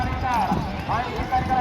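Hooves of racing bulls in a bullock cart race (bailgada sharyat) drum in a fast rhythm, mixed with loud crowd voices and shouting throughout.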